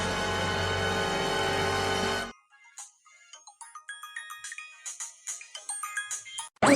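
A phone ringtone plays a steady electronic melody for about two seconds, then cuts off, followed by faint scattered clicks and taps.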